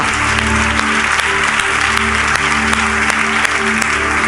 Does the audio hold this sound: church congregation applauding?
yes